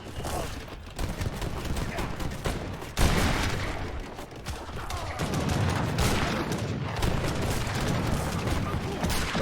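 Organ guns and other weapons fire during a real-time strategy game battle, with dense, continuous volleys of crackling shots and booms layered throughout and a sharp louder burst partway through.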